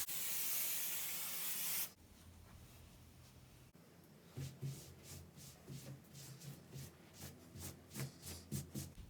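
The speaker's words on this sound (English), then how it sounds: "And then you spray." Basting spray hisses loudly from an aerosol can onto quilt fabric in a short burst, then fades to quieter rhythmic rubbing and smoothing of the cloth by hand.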